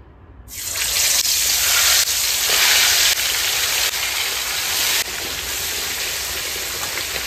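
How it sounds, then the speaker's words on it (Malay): Steady loud sizzling hiss of chicken frying in hot oil, starting abruptly and continuing without pause, close up. "Okay, so biar ayam ni goreng dulu."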